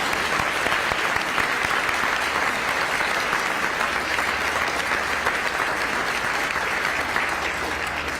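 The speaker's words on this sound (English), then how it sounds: "We can clap." Audience applause at a school board of education meeting, an even, continuous patter of many hands clapping at steady loudness throughout, with no voices over it.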